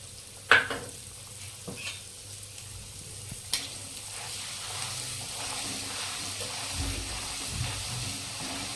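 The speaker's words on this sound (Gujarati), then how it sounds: "આપણે તેલની અંદર આપણે લસણની કચાશ નીકળી જાય ત્યાં સુધી આપણે શેકવાનું." Garlic chutney fries in hot oil with a pinch of asafoetida, opening with a sharp crackle that settles into a soft, continuous sizzle with occasional light stirring scrapes, close and moderate in level.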